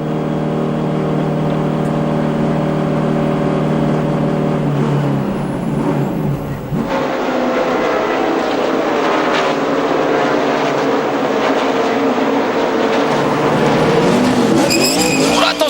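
NASCAR Sprint Cup race cars at Michigan during a two-tire pit stop, loud engines roaring and revving close by, with tire squeal and a sharp change in engine note as cars leave the pit lane.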